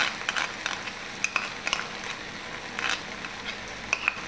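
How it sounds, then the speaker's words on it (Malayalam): Gobi manchurian being stirred with green chilli sauce in a pan, giving a soft steady sizzle with scattered spoon scrapes and clinks at irregular intervals, close by and moderately quiet, with no talking. "നല്ലവണ്ണം നമുക്ക് മിക്സ് ചെയ്യുകയാണ്."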